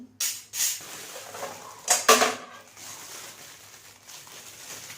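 Metal kitchen utensils, a spatula and a spoon, clatter and clink in a few sharp bursts, two clusters near the start and another pair mid-way, followed by softer handling noise; no one speaks.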